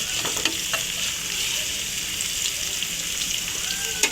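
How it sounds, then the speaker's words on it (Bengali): Onions frying in a pan for a chickpea dish, a close steady sizzle with crackling pops and occasional stirring scrapes, no voices. "পেঁয়াজটা আমি ভালো মতো ভেজে নিচ্ছি।"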